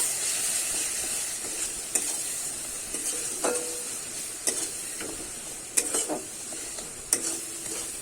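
Chicken with chilli powder and spices is stir-fried in a pan for a Bengali chicken kosha, with a soft constant sizzle under repeated scraping strokes and occasional sharp clacks of a spatula against the pan, close, with no speech.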